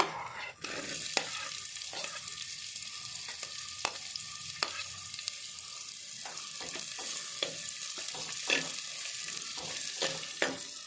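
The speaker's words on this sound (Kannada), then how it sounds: "ಈತ ಬೆಚ್ಚ ಅನ್ನೋಗ ಆಯ್ಕಿತ್ತೆ ನಮ್ಮ ನೀರುಳ್ಳಿ ಪಾಡ್ದು ಫ್ರೈ ಮಲ್ಪುಗ" Onions frying in coconut oil in a pan for mackerel pulimunchi, with a steady soft sizzle under repeated sharp scrapes and clinks of a spatula stirring at irregular intervals.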